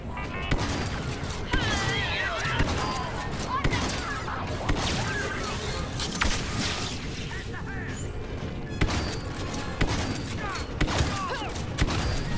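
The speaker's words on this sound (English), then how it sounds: "What happened to my little turret gun?" Turret gunfire and explosions in Star Wars Battlefront II come as bursts of shots and booms, dense and chaotic, with crashes in the mix and speech faintly underneath.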